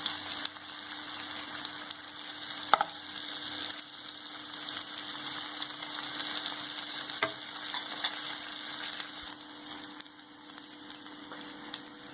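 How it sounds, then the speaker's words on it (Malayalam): Soya chunks fry in a pan over a medium flame, making a steady, continuous sizzle with a faint hiss that holds at an even level throughout, with a couple of brief clinks and no talking. "മീഡിയം ഫ്ലെയിമിലിട്ട് വറുത്തതാണ്."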